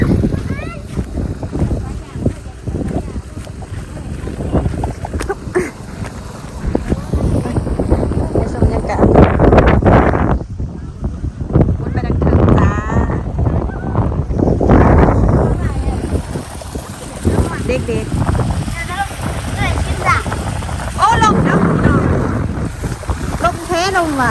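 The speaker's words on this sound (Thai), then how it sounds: "ลมเป่าดังนะ" Strong wind gusts roar across open farm fields and rice paddies in rural Thailand, buffeting loudly in surges, with a person talking over the blustery noise.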